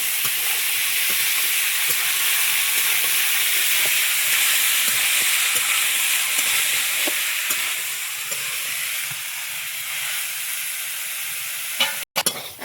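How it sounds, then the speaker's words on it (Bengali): Pieces of taro fry in a pan with a loud, steady sizzle, and a utensil stirs them in periodic scrapes. Near the end the sizzle drops, followed by a brief clatter. "কচুটা দিয়ে ভালো করে কষিয়ে নেব"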